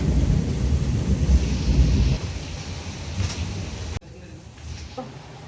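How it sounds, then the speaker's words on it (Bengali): A rumble of thunder rolls over heavy rain on a street, loud and close, the downpour hissing steadily before dropping off abruptly near the end. "এত বৃষ্টি হচ্ছে তার ওপর মেঘও ডাকছে"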